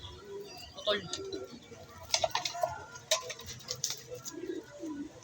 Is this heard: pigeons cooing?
yes